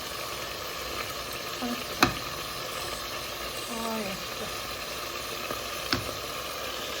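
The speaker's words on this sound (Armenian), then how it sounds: "սպասենք տապակվի, տապակելու բարձր կրակով երկու կողմից կարմրացնելու եմ" Food frying in a pan over high heat makes a dense, even sizzle throughout, with a couple of sharp ticks and a faint voice briefly in the background.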